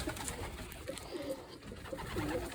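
Soft, low coos from young pigeons repeat a few times over a steady, noisy background, fairly close and not very loud.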